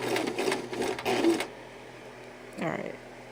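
A sewing machine stitches a small square hacky sack in a short, close burst of rapid whirring, then stops; a brief, softer mechanical sound follows a moment later.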